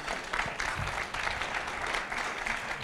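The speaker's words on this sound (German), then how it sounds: "Also Applaus für diese Lösung hier" An audience at a requirements-engineering conference keynote applauds in a steady, even wash of many hands clapping at moderate volume for a few seconds, with no speech over it.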